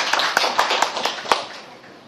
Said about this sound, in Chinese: 以热烈掌声来欢迎他